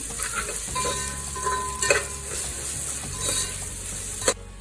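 Ginger-garlic paste sizzles steadily in a frying pan, a continuous close hiss with a few stirring scrapes and one sharp clack near the end, no talking.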